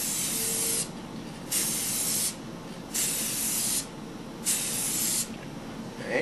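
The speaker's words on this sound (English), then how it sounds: "tip the paint dispenser nozzle in order to catch the various pieces of geometry here" An aerosol spray-paint can coats a Volvo 240 headlight with a close, continuous hiss that swells into brighter, harsher bursts about every second and a half, each lasting under a second.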